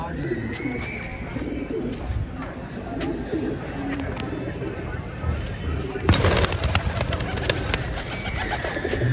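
Pigeons coo steadily close by while people talk, and a sudden loud rush of flapping wings breaks out partway through as birds take flight.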